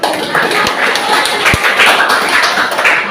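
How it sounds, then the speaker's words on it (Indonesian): A school class clapping hands together in a steady, crowded patter, with a few sharper taps standing out, fairly loud and close. "Ya, tepuk tangan."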